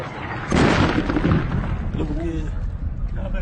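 A missile strike explosion in Kuwait booms loudly in one heavy burst with a rumbling tail, followed by a noisy, crackling aftermath and faint voices.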